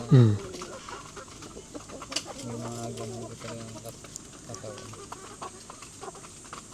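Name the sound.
native chickens clucking on a Philippine farm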